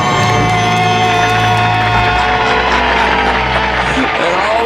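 A studio audience cheers and whoops loudly and continuously after a debt-free scream on a radio show, with voices shouting over one another.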